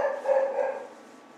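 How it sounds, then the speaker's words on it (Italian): Dogs bark somewhere near a home in Italy, a short burst of fairly faint barking and yips that fades toward the end, heard alone with no talk. "ogni tanto i cani abbaiano"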